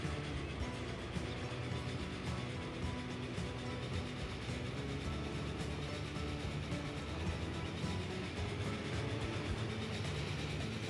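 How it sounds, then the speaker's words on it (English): A passenger train rolls along at speed in the rail-management game Transport Fever 2, a steady dense rumble and rush of wheels that continues without a break and with no talking. "Look at that train, man."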